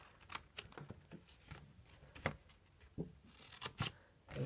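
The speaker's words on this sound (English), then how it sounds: "Take your scissors and just cut these edges off." Scissors trim the edges off a piece of folded cardstock while making a tea light card, a series of close, crisp snips in an uneven rhythm with some light paper rustling between cuts.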